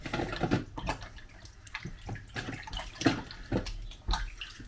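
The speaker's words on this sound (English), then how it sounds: "Wash my hands again, then we can start mixing." Hands are washed under a running tap in a kitchen while preparing Halloween cupcakes, with water splashing and streaming in irregular bursts as the hands move, close and steady.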